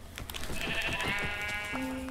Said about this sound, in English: Oh yes, sheep.